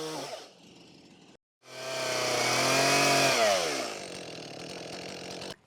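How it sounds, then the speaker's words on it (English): A chainsaw fitted to an Alaskan chainsaw mill cuts through a wooden board, sputtering briefly, going quiet, then revving up loud and close into a sustained high whine before easing off. "I just got to come in here with the chainsaw and clean that up."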